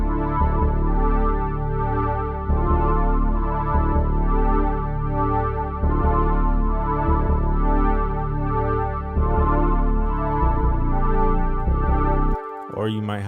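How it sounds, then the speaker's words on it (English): A sustained synth pad carries a melody in a music production, its layered chords shifting every couple of seconds at a steady, full level, with no talking over it. "So it could be a pad that sounds like this."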